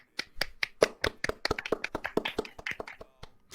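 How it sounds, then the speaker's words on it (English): A handful of people clap briefly at the start of a quarantine chat show, a quick uneven patter of close, individual claps that thins out toward the end. "Maybe a little applause."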